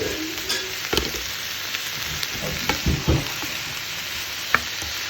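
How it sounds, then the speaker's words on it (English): Chanterelle mushrooms frying in butter in a pan give a steady close sizzle, with scattered crackles and light stirring clicks throughout and no speech. "chanterelle mushroom and this butter. It smells good."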